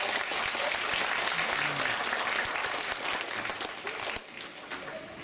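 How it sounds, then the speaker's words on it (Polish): Audience applause after an amateur theatre group's performance of Hrabina in Brzostek, dense continuous clapping from a hall crowd, with faint voices underneath, thinning slightly near the end. "Brawa dla was."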